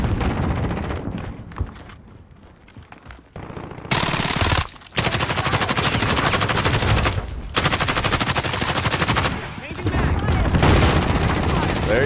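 Heavy, continuous automatic gunfire in a video game, loud and dense, cutting in and out in long sustained stretches, with voices talking underneath, especially early on.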